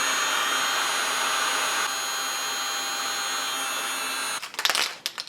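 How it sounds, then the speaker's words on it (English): A hot air blower runs steadily to dry fresh paint on a Honda HSS1332 snowblower chute, a loud constant whirring hiss that stops near the end, followed by a few knocks and handling clatter. "it should funnel this hot air down the length of it and help dry faster"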